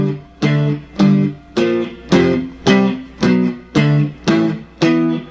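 Distorted electric guitar power chords strummed slowly, one hit each, ring out in a steady series of eight heavy chords with brief decays between strikes, close and loud with no talking.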